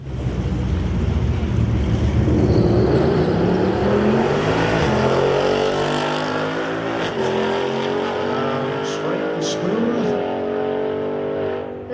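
A Camaro convertible drag car launching down the strip, a loud sustained engine roar with rising harmonic sweeps as it accelerates away, heavy wind and crowd-area noise throughout.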